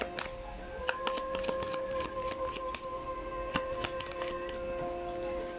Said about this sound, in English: You saw me shuffle.